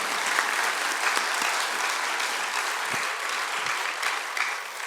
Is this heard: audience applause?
yes